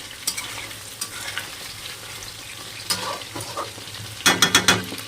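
Chili chicken pieces frying in hot oil with a steady low sizzle, broken by several scraping stirs of a utensil against the pan, a sharp burst of clanks and rattles near the end.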